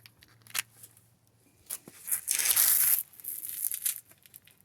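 A Subaru WRX STi splash guard is cut, giving scattered crinkling and snipping crunches with a longer rough burst in the middle, close and fairly quiet.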